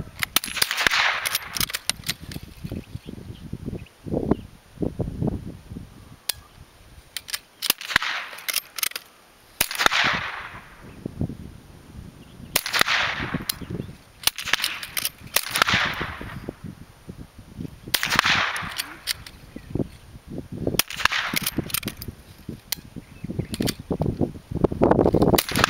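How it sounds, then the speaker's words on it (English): Manually operated .22 sporter rifles fire at a shooting match, sharp cracks from several shooters coming singly and in irregular clusters with short gaps between them. "Manually operated rifles, start."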